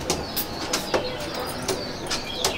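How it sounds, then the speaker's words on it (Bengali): A female red-pied homing pigeon in a home loft, with short chirping calls and soft coos repeating several times close by, along with brief flutters and other birds faintly around. "এটা হচ্ছে মাদি, আমার বাড়ির লাল ফুল পায়রা"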